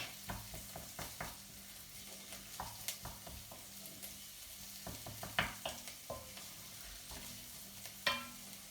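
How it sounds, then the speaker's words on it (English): Garlic fries quietly in a pan for a curry, a faint background sizzle broken by repeated soft clicks and scrapes of a spoon stirring, with no voices. "Just give it a bit of a stir around so you can really smell the garlic"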